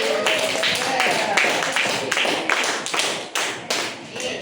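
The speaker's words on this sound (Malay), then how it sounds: "tepuk tangan kepada ahli kambing" Several people clap their hands together in a brisk, steady burst, the claps fairly loud and close, with some voices mixed underneath.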